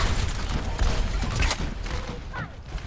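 Pharah's rocket barrage ultimate in Overwatch, a dense burst of rapid explosive blasts and booms rolling together loudly for a few seconds with no pause.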